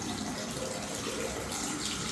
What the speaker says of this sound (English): I put this gold finished faucet and this pop-up that came with it